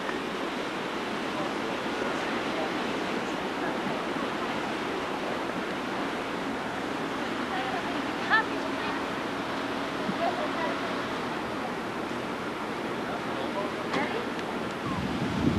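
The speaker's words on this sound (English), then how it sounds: "The Mediterranean Sea in the background." Mediterranean Sea surf at Caesarea near the ancient aqueduct, a steady wash of waves mixed with wind noise on the microphone that holds a constant roar throughout.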